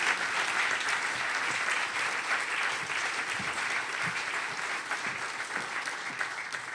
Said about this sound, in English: Can I ask you to give them a big round of applause and make them feel welcome?